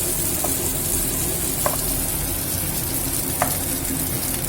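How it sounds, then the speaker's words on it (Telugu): Washed rice fries in a pan for coriander pulao, a dense steady sizzle with a few faint clicks of stirring, close and alone. "ఇప్పుడు ఈ బియ్యం కూడా మనం వేయించుకున్నాము."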